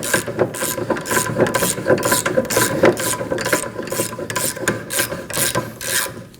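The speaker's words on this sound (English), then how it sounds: "Using a 19mm socket and a 19mm wrench, we're going to go ahead and hold the knot on the other side. And now we're going to loosen the bolt." A socket wrench ratchets while loosening a 19mm bolt on a 2011-2016 Kia Optima rear upper control arm, rapid repeated clicking strokes in an uneven rhythm, close and fairly loud.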